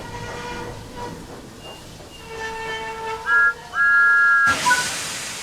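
Thomas the Tank Engine in the Train Sim World 5 game: a loud steam whistle sounds twice, first a short blast and then a longer one, over a rumbling train with other whistle tones, before a sudden burst of hissing steam.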